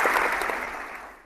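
Short burst of applause from a small live-show audience, dense and steady before tapering off toward the end, with no voices over it.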